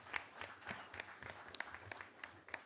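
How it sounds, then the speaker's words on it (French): Applause at a city council meeting for award winners: faint, thin clapping from a small room audience, scattered claps sounding at an uneven pace for nearly three seconds. "Une bonne main d'applaudissements, s'il vous plaît."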